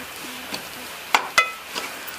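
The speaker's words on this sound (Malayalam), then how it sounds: "കണ്ടോ മുട്ടയൊക്കെ ഫ്രൈ ആവുകയും ചെയ്തു" An egg mixture for egg biryani is stirred in a frying pan: a faint sizzle runs underneath a few sharp utensil scrapes and clinks against the pan.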